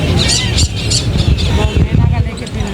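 A sun conure at a Sunday exotic bird market in Lalukhet squawks in loud, harsh, close bursts while people talk nearby.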